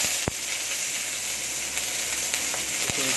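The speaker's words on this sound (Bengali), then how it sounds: "পেঁয়াজটা ভেজে নিচ্ছে" Onion fries in a pan while preparing spinach, a steady bright sizzle and hiss with a few sharp spatter pops, close and with no talking.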